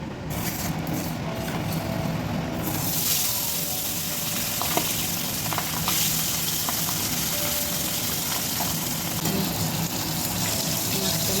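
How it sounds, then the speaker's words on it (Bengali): Pabda fish frying in hot mustard oil in a heated wok gives a loud, steady, close sizzle that holds through the whole stretch, with small crackles and pops. "কড়াটা গরম হয়ে গেছে, আমি পাবদা মাছ ভাজবো।"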